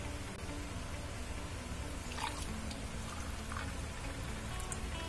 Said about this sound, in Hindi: और अब हम इसमें डाल देंगे ठंडा पानी।